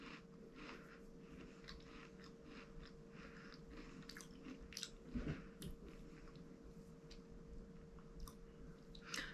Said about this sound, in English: A nice crunch when you bite into it.